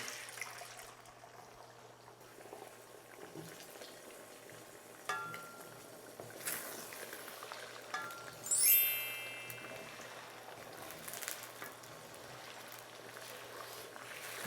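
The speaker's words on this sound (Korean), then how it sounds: "그리고 기름이 조금 달아오르면 계란을 넣겠습니다" Eggs dropped into hot cooking oil in a pan for a stir-fry with shishito peppers, a soft low sizzle with scattered crackles and one brighter spitting burst partway through, no voices.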